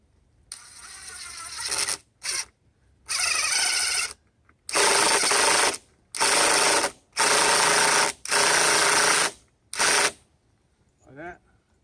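A power drill driving screws into a wooden border board for a no-dig garden edging, several loud whirring bursts of one to two seconds each, close by with short pauses between them.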